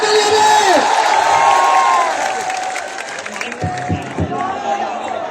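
A large crowd cheers, whoops and applauds at an evening qawwali concert on a festive outdoor stage at CRB, Chittagong, loud and sustained before fading into scattered claps and shouts.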